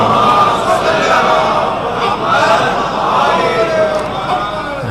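Crowd at a Ramadan majlis chanting religious slogans, a loud massed roar of voices rising and falling continuously through the clip, close and dense.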